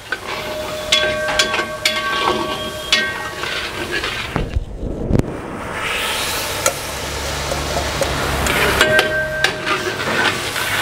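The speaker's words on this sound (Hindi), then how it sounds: "और चावलों को इसके साथ भून लूंगा थोड़ा सा।" Soaked rice stir-roasted in a pan with red chilli and spices for a Punjabi bagocha, a steady sizzle broken by repeated scraping and clinking of the spoon against the pan, with a brief pause midway.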